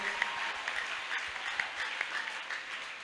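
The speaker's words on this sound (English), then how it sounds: "clap mightily for Jesus" A church congregation at a deliverance ministry service claps together in praise, a moderate, steady patter of hands with a few sharper claps standing out.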